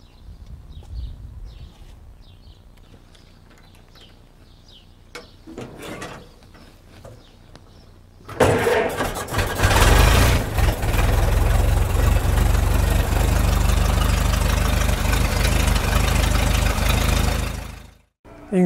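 An old vehicle engine cranks over, catches and settles into a loud, steady idle after a quiet stretch, then cuts off abruptly near the end.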